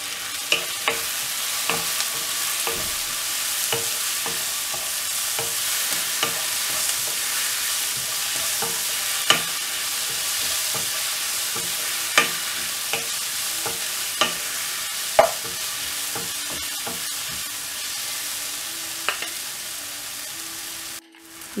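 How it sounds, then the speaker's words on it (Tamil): Tomatoes fry with garlic in a pan for a brinjal and drumstick poriyal, with a continuous sizzle and regular light taps of a spatula stirring against the pan, close and fairly loud, with no talking. "பூண்டு ஃப்ரை ஆன உடனே தக்காளி ஆட் பண்ணிவிட்டு இதை நல்லா ஃப்ரை பண்ணி விட்டுருணும்"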